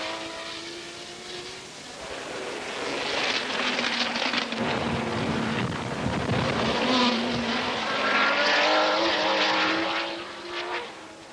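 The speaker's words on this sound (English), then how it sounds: "Rodriguez, in the Gulf Porsche, works hard to stay with Ickx in the prototype Ferrari" Group 5 racing cars, a Gulf Porsche chasing a prototype Ferrari on the twisting Brands Hatch circuit in wet conditions, roar loudly past as a continuous engine drone that swells and fades with shifting pitch.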